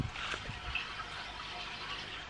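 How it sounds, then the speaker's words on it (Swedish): Steady rushing water runs continuously through a well when water is flushed inside the house, a broad hiss with faint gurgles, heard nearby with no voices. "den där brunnen låter nämligen när man spolar inne i huset"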